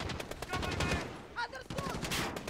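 A sniper rifle fires in the shooter game Call of Duty: Modern Warfare, its sharp report standing out amid a busy mix of gunfire and game effects, while a voice talks over the action.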